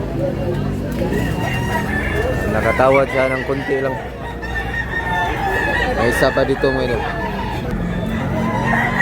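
Roosters crow repeatedly amid the busy hubbub of a gamefowl market in Tabunok, Talisay, Cebu, with overlapping calls and clucks under someone talking close by.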